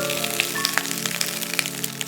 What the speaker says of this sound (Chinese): 用小火将青椒的每一面都煎成虎皮色。